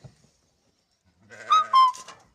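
Sheep bleat twice in quick succession, ewes and lambs calling close by and fairly loud after a quiet start, with no talk.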